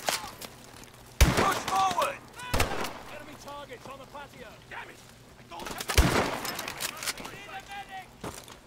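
Automatic and single gunshots from the Call of Duty Advanced Warfare video game, loud bursts with a heavy crack, repeating in clusters between quieter stretches where someone talks.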